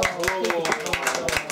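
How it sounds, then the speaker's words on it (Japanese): An audience claps in welcome for a performer at a birthday surprise during an autumn festival stage show, with scattered hand claps under continuous talk and tonal sound. "皆さん、拍手を。"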